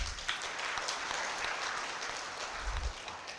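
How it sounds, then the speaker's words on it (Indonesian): Steady applause from a crowd at a graduation ceremony for midwifery academy and Islamic college graduates, sustained and even throughout with no voices over it. "Tepuk tangan."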